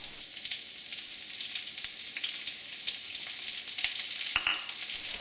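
Sliced onion frying with popping mustard seeds in a pan for Bengali fried rice, a continuous bright sizzle with occasional small pops and a light knock, close and steady, no voices.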